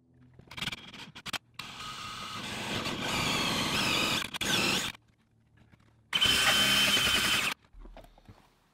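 Power drill running a 1.5 inch hole saw into a wooden block in two close, loud grinding bursts, the first longer with brief stutters, separated by silence.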